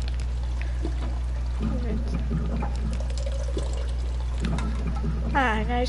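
Water poured into a cup in the video game Soma, a steady trickling stream running over a constant low hum, with a person talking briefly near the end.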